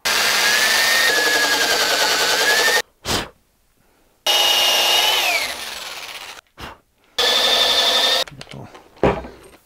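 A power drill bores a pilot hole into a wooden branch with its bark still on, clamped in a vise, in three loud, close whining bursts separated by brief silences and a few short clunks.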